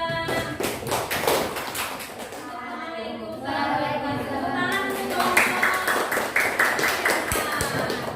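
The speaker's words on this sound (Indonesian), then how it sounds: "Tepuk tangan untuk kelompok 2." Students in a classroom clap for a presenting group in a rhythmic run of sharp, close hand claps, with children's voices chattering underneath.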